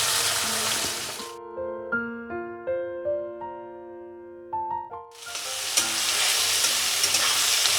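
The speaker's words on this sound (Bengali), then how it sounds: "এবার কুচনো পেঁয়াজ দিচ্ছি।" Chopped onion hits hot oil already tempered with dried red chilli, bay leaf and garam masala, giving a loud, close sizzle that drops out for a few seconds of music alone, then returns as a strong, steady hiss.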